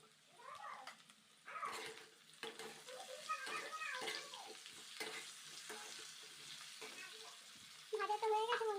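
Water is poured into a bent kadai of fried potatoes seasoned with salt, bringing faint sizzling, bubbling and stirring at close range, with quiet talk alongside.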